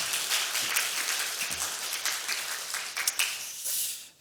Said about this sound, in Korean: 우리 박수로 격려하도록 하겠습니다